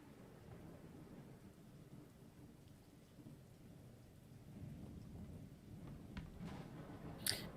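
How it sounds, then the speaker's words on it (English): Rolling thunder and waves of rain sweep across a ship's deck during a storm, a steady low rumbling wash with distant cracks, ending in a brief sharper burst. "You can hear the kind of rolling thunder kind of crack through your awareness occasionally, as well as the waves of rain across the deck."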